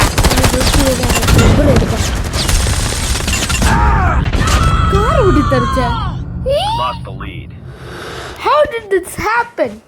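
Gunfire in Call of Duty, with dense rapid bursts of loud shots for the first few seconds that give way to scattered game sounds and effects, while voices talk throughout.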